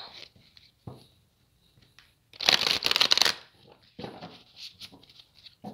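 Oracle cards being shuffled by hand, a soft riffling that swells into one dense, loud shuffle in the middle, with lighter card rustles and taps before and after.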